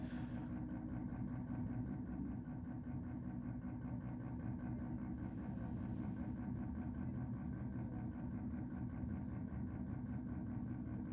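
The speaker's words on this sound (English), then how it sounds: "Unmistakable burble of a 13B or a 12A down there on the track mic." A Mazda 13B or 12A rotary engine burbles on the drag strip at a Sydney Dragway meet, picked up by a distant track microphone as a steady, choppy low rumble that continues without pause and without voices.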